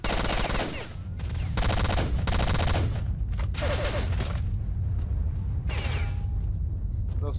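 Gunfire in the STALKER Shadow of Chernobyl video game: loud, close bursts of automatic fire come in several separate volleys separated by short gaps, with a speaker's voice faintly underneath.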